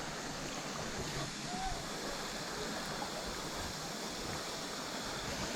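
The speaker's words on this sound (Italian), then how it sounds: "È veramente una cascata fantastica." Steady roar of a waterfall on a trekking trail in the Costa Rican rainforest, a continuous broadband rush of falling water that stays even and fairly close throughout.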